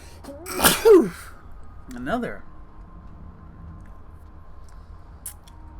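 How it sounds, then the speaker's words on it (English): A loud human sneeze bursts out near the start, followed by a quieter second sneeze-like burst, then a faint background hum remains. "Another huge sneeze right there."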